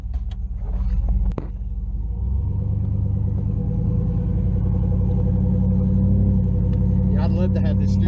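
A turbocharged Chevrolet C10 truck fitted with a cheap $40 aftermarket exhaust starts up and settles into a steady deep idle rumble, close and loud, with a few brief sounds near the end.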